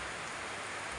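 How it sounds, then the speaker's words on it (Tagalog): Heavy rain pours down in the mountains near the Sierra Madre, a loud continuous hiss of drops striking surfaces, steady and unbroken with no voices. "Biglang lumakas ang ulan."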